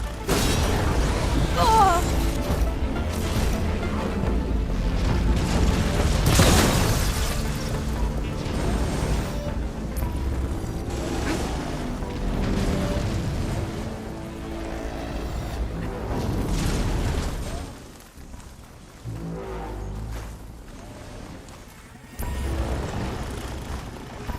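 Detonations in the video game Horizon Forbidden West go off as deep booming bursts and rumbling blasts, loud and layered with mechanical game effects, easing into quieter stretches before another burst.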